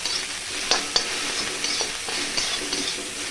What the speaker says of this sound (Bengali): আদা রসুনটা আমি দেওয়ার পর একটু হালকা করে নেড়ে নেবো